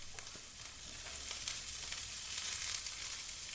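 Green onions and kale sauté in a pan for fried rice, giving a soft, steady sizzle with light stirring clicks, close but fairly quiet and continuous throughout.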